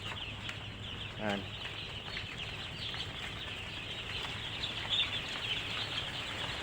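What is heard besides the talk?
chicks peeping inside the house under heaters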